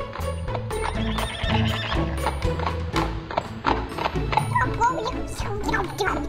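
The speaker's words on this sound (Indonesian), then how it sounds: "Adit, itu bukannya suara delman ya?" Horse-drawn delman carriage with a horse neighing and hooves clip-clopping, set inside a busy cartoon soundtrack with steady music underneath throughout.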